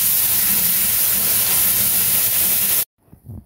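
Coconut milk hits a hot pan of sautéed onions, a loud, steady sizzling hiss that cuts off abruptly, followed by faint clinks and stirring.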